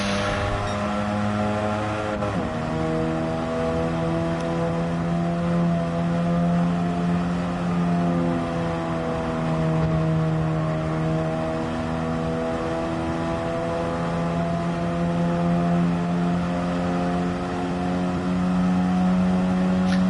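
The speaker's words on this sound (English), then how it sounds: "I think I got full racing exhaust and everything on it" A race car engine in Gran Turismo 7, fitted with a full racing exhaust, drones steadily at high revs with a raspy exhaust note, pitch dipping briefly early on then holding loud and constant throughout.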